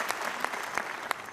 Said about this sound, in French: On applaudit, on encourage Liane